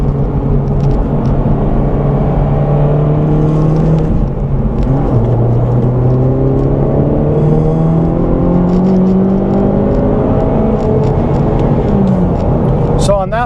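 A stage 1 tuned Honda Civic Type R FL5 pulls hard under boost, its engine droning and rising through several gear changes, loud and steady from the cabin, with someone talking over it.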